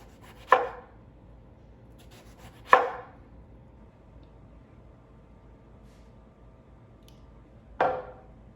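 A knife cuts thin eggplant slices on a board in three separate crisp chops spaced a few seconds apart, close, with quiet room tone between them.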